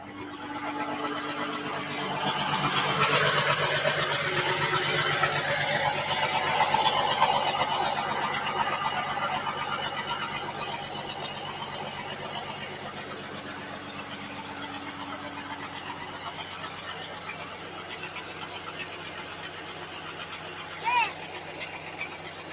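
A 1986 Ford CF7000 truck engine idles in neutral with the PTO engaged, a steady mid-pitched hum with a whining tone that swells slightly early on, then settles, as a person speaks over it.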